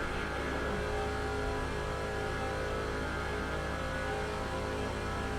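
Engines of NASCAR race cars in the NASCAR 06 video game during a Busch Series race at Talladega, a steady, loud, continuous drone with no clear breaks and no talking.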